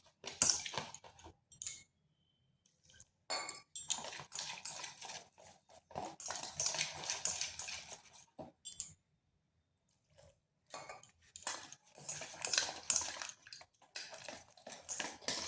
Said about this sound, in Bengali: তাই একটু সময় ধরে ব্যাটারটাকে এইভাবে ফেটিয়ে নিতে হবে।